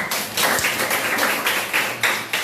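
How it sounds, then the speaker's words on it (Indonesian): A small group in a classroom session claps together, a dense, steady patter of hand claps close by that carries on without pause and has no talk over it. "beri tepuk tangan buat semuanya"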